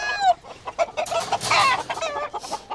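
A roughly ten-year-old breeding rooster calls out close by, its harsh crowing and clucking rising and falling in several bursts over a few seconds, with no talk over it.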